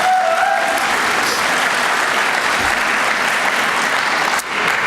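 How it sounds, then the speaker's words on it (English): Dense, sustained applause from a large audience at a university graduate awards ceremony, steady and loud throughout with a few faint cheers mixed in. "Yeah, that's worth clapping for."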